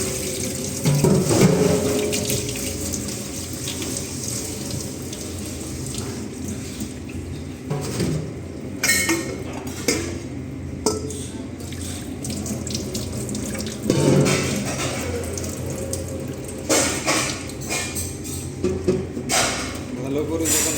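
Tap water running over salted bitter gourd pieces held in a kitchen strainer, a steady splashing stream close by with surges as the gourd is moved, a person talking over it.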